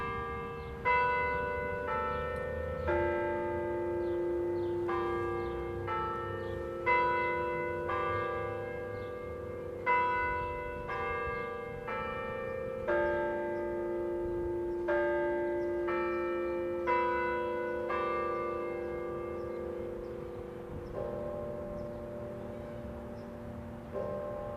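Tower church bells ring a quarter-hour chime melody followed by the hour strike, with sustained, overlapping tones ringing out steadily in a slow, even sequence, moderately distant and without voices.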